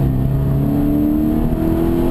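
A Toyota GT86 engine roars steadily under heavy throttle at the Goodwood Hill Climb, a loud continuous drone with rising tones as it accelerates close by.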